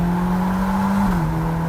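A 612bhp Ferrari Roma Spider engine pulls at part throttle with a steady, close, droning note that dips slightly in pitch near the end, alone with no talk.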